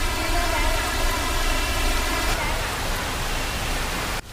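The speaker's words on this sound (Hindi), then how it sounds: "भाई बारिश तो तेज स्टार्ट हो गई यार" Heavy rain pours down in Mumbai as a steady, loud broadband hiss that keeps going throughout without a break, with a low hum underneath during the first half.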